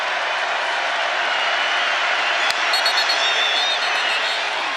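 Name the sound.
stadium crowd cheering at college football game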